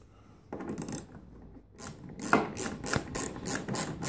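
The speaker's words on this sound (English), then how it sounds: "we can put these screws back on." A ratchet clicks as screws are driven back into the rear bumper cover of a VW Sharan 7N, in close, loud bursts of quick pawl clicks with brief pauses.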